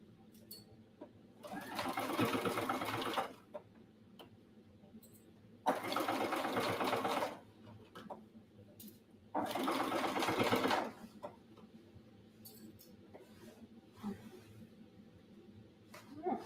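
Sewing machine stitching a cross body bag while the bobbin threading or tension is off, running in three bursts of about two seconds each. Quiet pauses separate the bursts, and faint handling noises fill the gaps.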